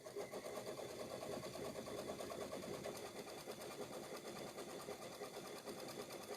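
A Kimberbell embroidery machine stitches out a clear blue tiles design, a steady, fast mechanical whirring and rapid needle pulsing that runs loud and continuous throughout, with no talking.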